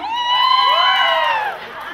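A crowd at an Ilocano festival shouts and cheers loudly, with high, rising voices overlapping in a sustained two-second burst of whoops.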